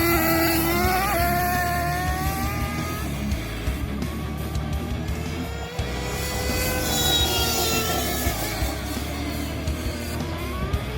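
A Losi 454 RC car engine runs at part throttle, a loud close buzzing drone that rises and falls in pitch as it speeds up and slows, continuous throughout.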